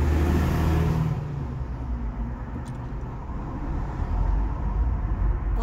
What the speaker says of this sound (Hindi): यहाँ पर इतनी ट्रैफिक है, क्या करें।